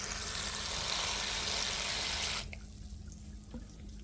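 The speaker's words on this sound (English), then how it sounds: "Adding some water to the flour," Running water from a tap poured into flour for baked macaroni and cheese, a steady broadband rush that stops abruptly partway through, leaving quiet room tone.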